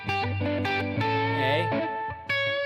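Sustained electric guitar chord, a G run through an effects unit with distortion, rings out loud and close, with a brief re-strike partway and a fresh attack near the end.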